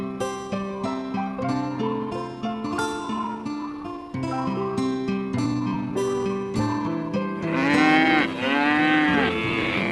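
Cattle low repeatedly in a hot desert setting, a chorus of overlapping moos that build louder near the end, with no talking.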